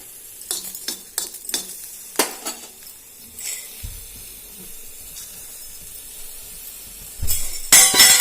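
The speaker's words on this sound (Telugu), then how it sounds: "చూడండి పచ్చిమిరపకాయలు అయితే ఇట్లా మంచిగా వేగాలన్నమాట" Green chillies dry-roasting in a pan without oil, with a spoon scraping and clacking against the pan in quick bursts. The stirring then settles into a soft, low hiss before a louder rustle at the end.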